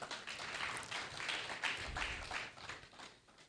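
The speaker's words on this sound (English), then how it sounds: "A round of applause for her, please." Applause during an online membership induction webinar: a faint, steady patter of clapping from a small group, sustained evenly for a few seconds without talk.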